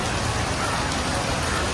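Heavy rain pours steadily at Katunayake airport in Sri Lanka, a loud, unbroken hiss of drops hammering surfaces nearby, with no voices over it.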